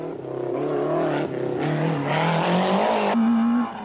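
Citroën AX rally car at the 1991 Rallye des Garrigues, its engine loud and close as it revs hard through successive gear changes, the pitch climbing and dropping in repeated surges, no talking.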